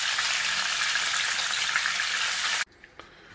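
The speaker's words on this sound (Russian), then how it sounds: "Жарится быстро." Eel pieces fry in a pan with a steady, dense sizzle that holds loud and even, then cuts off abruptly near the end, leaving quieter clinks and faint kitchen noise.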